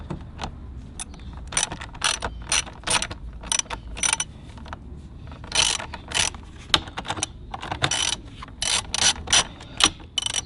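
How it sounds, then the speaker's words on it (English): Ratchet wrench with socket adapters loosening bolts on a Honda TRX 450R ATV, a close series of fast clicking ratchet bursts in irregular spurts, alone without talk. "So let's go ahead and start removing these bolts."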